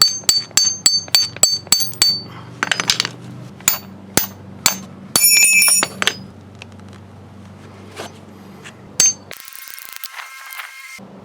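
A hammer strikes a chisel wedged into the clamp of a steering gear on an old Chevy truck. A quick run of about nine sharp, ringing metal blows comes first, then scattered single strikes and clinks, all close and loud.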